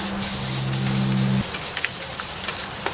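Light hand sanding with 1000 grit sandpaper over a painted pipe, a steady close rubbing hiss in short repeated strokes, with a low hum fading out partway through.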